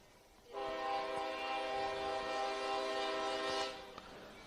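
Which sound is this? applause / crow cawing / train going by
train going by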